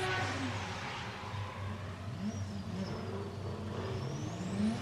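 A Nissan 180SX drift car revs in the burnout box at a drift qualifying event at Mission Raceway Park, its engine droning steadily with rising and falling pitch, heard from a distance alone without talk.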